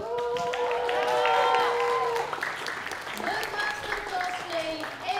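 Audience applause at a cosplay stage during a game summit prize ceremony, sustained clapping and crowd noise all the way through, with an announcer's amplified voice speaking over it.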